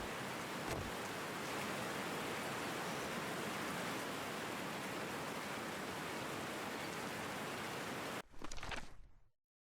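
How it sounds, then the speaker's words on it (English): Water pouring down in a video game, a steady dense hiss like heavy rain or a waterfall that runs continuously and loudly, then cuts off abruptly with a brief final splash. "This has water coming down."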